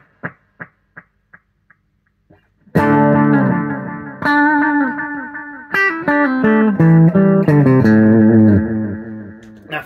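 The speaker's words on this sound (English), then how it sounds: "I'm using an analog delay." Electric guitar plays with distorted, sustained notes; at the start, short plucked notes repeat and fade away in delayed echoes from an analog delay pedal.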